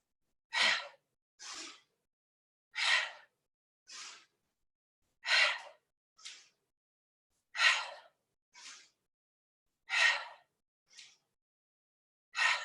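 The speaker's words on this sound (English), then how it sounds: "Inhale through the nose up, exhale, fold." Deep breaths during a breathing exercise come in a steady rhythm, alternating stronger and softer airy inhales and exhales, close and clear with silence between each, about ten breaths in all.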